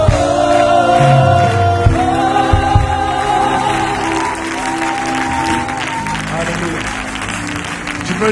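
A church congregation clapping and cheering in acclaim during a Holy Spirit service, loud sustained applause mixed with voices and music that gradually thins out.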